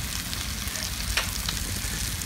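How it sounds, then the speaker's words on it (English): Steady sizzling and frying of bread toasting on a hot griddle beside melting cheese for A5 Miyazaki Japanese Wagyu ribeye cheesesteaks, a continuous close crackle with a few brief louder pops and no talk. "Bread is toasting."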